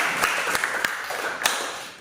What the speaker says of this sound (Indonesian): tepuk tangan dulu untuk Andika